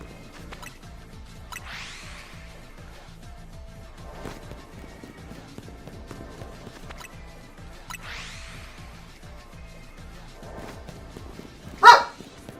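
A dog barks indoors in a couple of short, fairly distant bursts spaced several seconds apart over a steady low hum, followed by one sharp, loud clatter right at the end.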